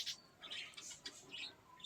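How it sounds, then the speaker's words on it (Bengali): Small birds chirp and tweet in quick, faint bursts while eating homemade bird food, with brief squawks scattered through the short stretch. "মিশানোর পরে দেখুন পাখিদেরকে দিয়েছি কি কী মজা করে খেতে লেগেছে"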